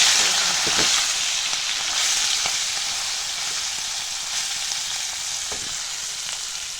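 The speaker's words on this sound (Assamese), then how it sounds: "এতিয়া মই মাছ ভাজিবলৈ কেৰাহী পাতি তেল গৰম কৰিলোঁ।" Fish fries in hot oil in a wok, giving a loud, continuous hiss and sizzle up close, with occasional stirring clatter and soft pops, no voices present.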